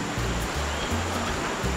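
A river flows past a jungle camp in the tropics, a steady broadband rush of water that stays even and close throughout with no voices.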